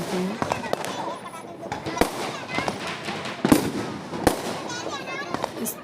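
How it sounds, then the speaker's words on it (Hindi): Diwali firecrackers and fireworks go off in a nearby housing society, with repeated sharp bangs and crackling bursts at varying distances over a steady background of festive noise. "हमारे पास में है सोसाइटी, कहीं वो लोग जो है पटाखे छोड़ रहे थे"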